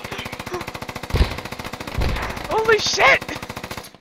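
Sustained machine-gun fire hammers in a rapid, steady rhythm throughout, suppressing a building in the Squad military shooter, with a loud voice shouting over the shots midway.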